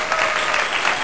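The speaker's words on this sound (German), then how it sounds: "Bitte einen Applaus." Brief burst of applause from a small audience, a steady dense clatter of hands lasting about a second.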